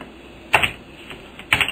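Two separate bursts of clacking keys on a computer keyboard while code is typed into a PHP IDE, each a short close cluster of taps separated by quiet.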